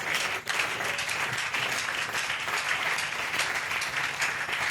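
A church congregation claps and applauds in praise, a dense, sustained wash of hands filling the hall at moderate distance, steady throughout with no talk over it.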